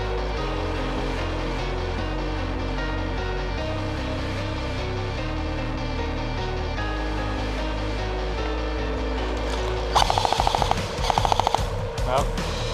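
Airsoft guns fire during an outdoor skirmish game, with sustained rapid automatic bursts throughout, then sharper, louder close volleys near the end.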